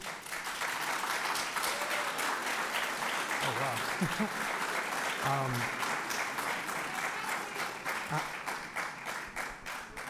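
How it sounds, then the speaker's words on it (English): An audience at a Plainfield Public Schools preliminary budget meeting claps steadily for several seconds in a dense patter of many hands, with brief exclamations and voices mixed in. "Thank you for clapping."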